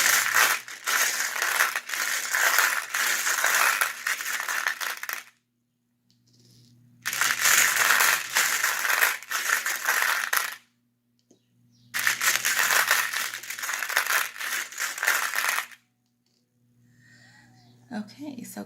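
Clarifying stones rattle loudly in three long shaking bursts separated by short pauses, close to the listener, with a faint low hum underneath.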